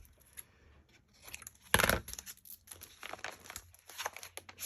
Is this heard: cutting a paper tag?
yes